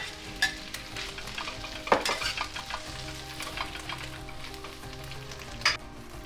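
Whitebait and dried bean curd stir-fry in a pan with wine drizzled over the fish, a steady close sizzle broken by several sharp clatters of the spatula stirring and scraping.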